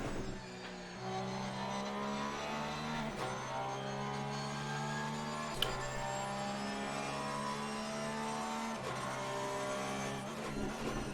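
A Porsche and a McLaren race down the straight at Bathurst in a racing video game. Their engines make a loud, continuous high-revving drone that drops briefly at gear changes every few seconds.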